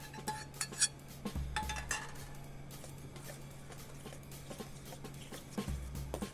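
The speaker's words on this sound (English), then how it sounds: "Just gonna stir this around until this cool." A spoon works through a quiche egg mixture with spinach and cheese, giving light scattered clinks and taps of utensil against a bowl over a steady low hum, with no one speaking.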